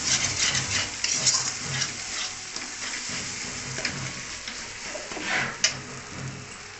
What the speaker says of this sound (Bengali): মশলাটা ভাজা।